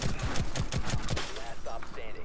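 A rapid burst of about six gunshots fires in quick succession in Rainbow Six Siege, loud and close, then trails off into quieter game sounds and faint speech.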